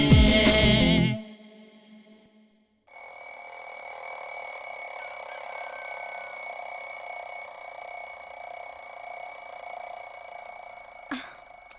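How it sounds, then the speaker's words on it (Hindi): An alarm clock rings on a domestic morning in a Hindi-dubbed South Indian film, a steady high electronic tone continuing under a quiet room. It follows a loud burst of music and a short pause, and ends with a brief sharp click. "अलार्म बज रहा, उठिए ना"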